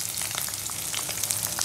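An egg fries in a pan with small dried anchovies, a close, steady sizzle with crackling pops throughout.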